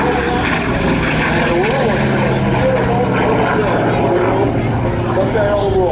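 A propeller fighter aircraft at an airshow drones loudly overhead through a barrel roll, its engine pitch sweeping up and down, while a commentator talks over the steady roar.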